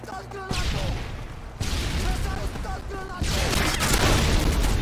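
Grenade launcher rounds explode in Modern Warfare 2 as three heavy, booming blasts land about a second and a half apart, each one louder and closer than the last, with rumbling debris trailing after it. Voices chatter underneath.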